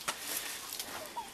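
Farm chickens in a winter coop cluck in short, scattered bursts at close range, a few brief calls spread through a moment of quiet barnyard ambience with no talking.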